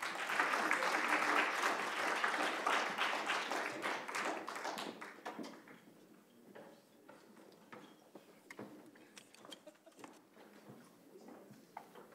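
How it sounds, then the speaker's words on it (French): Loud applause from a crowd fades after about five seconds into scattered, lingering claps. "On peut les applaudir bien fort"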